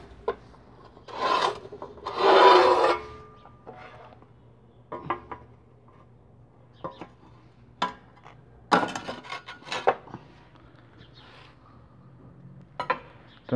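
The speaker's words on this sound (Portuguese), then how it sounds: "Aqui, tô fazendo na cortadeira. Cortadeira sai o acabamento melhor." A manual tile cutter scores porcelain tile in several scraping rasps of varying length, close and distinct, with quieter gaps and light clicks between strokes.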